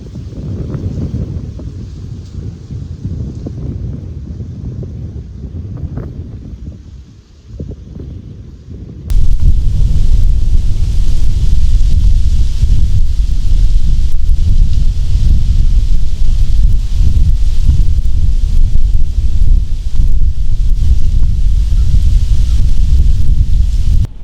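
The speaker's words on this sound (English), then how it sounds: "it is stupid windy, like 15 to 20 mile an hour winds" Strong gusting wind, about 15 to 20 mph, buffets the microphone at a hunter's tree stand during Pennsylvania rifle deer season, a steady low roar that rises sharply partway through and stays loud and continuous.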